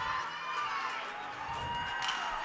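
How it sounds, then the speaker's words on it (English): Cheering section of a crowd at a high school varsity boys hockey game between Marshfield and Plymouth North, a steady wash of shouts and cheers echoing through the rink for a couple of seconds. "He's got his own cheering section to my left"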